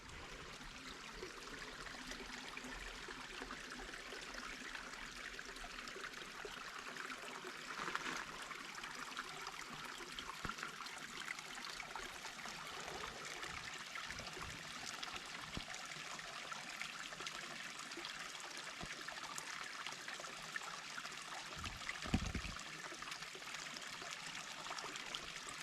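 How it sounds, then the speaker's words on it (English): A small creek waterfall trickles down through lush growth on the Suicide Rock trail in the San Jacinto Wilderness, a steady soft wash of running water with no talk over it. "We have a little bit of a creek waterfall going on, coming down."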